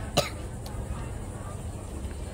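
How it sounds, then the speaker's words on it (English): A single short cough from someone who ate too fast at a zoo in Melbourne, Florida, heard once near the start over steady outdoor background noise. "I'm coughing because I ate this a little too fast."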